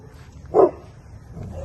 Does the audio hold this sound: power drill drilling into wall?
no